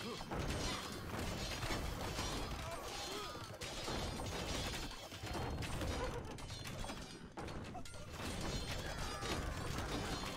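A town center building collapses in a real-time strategy game, a dense rumble of crashing, cracking and grinding debris that swells and dips in waves, moderately loud and unbroken.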